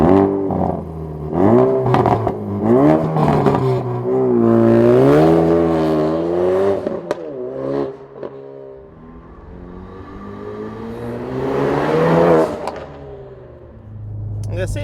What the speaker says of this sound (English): Let's take it for a ride.